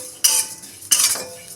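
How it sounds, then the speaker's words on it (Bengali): A dry spice mix for shukto being roasted and stirred in a pan: two distinct metallic scrapes of a utensil against the pan, close and crisp, with quiet between them. "হালকা করে আমি এই শুকনো মশলাটাকে ভেজে নেব"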